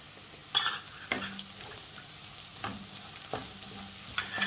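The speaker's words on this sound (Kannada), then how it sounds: "ಈಗ ಒಂದು ಸ್ವಲ್ಪ ಅರಿಶಿನದ ಪುಡಿ ಹಾಕಿದ್ಮೇಲೆ ಚೆನ್ನಾಗಿ ಕೈ ಆಡಿಬಿಟ್ಟು ಚೆನ್ನಾಗಿ ಕೈ ಆಡಿ" Onions and peas frying with turmeric powder for masala dosa filling are stirred in a pan, with a steady low sizzle broken by several distinct scrapes and clanks of a spoon against the pan.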